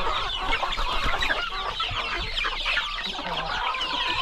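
Chicks and hens clucking and peeping together in a crowded farm pen, a busy, continuous chatter of many birds close by.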